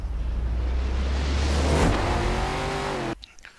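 A race car engine in Forza Horizon 4 revs loudly at the race start, a rising, sustained roar climbing in pitch before cutting off abruptly near the end.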